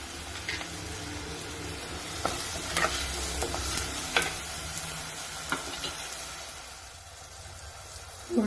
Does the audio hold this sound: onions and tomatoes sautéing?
yes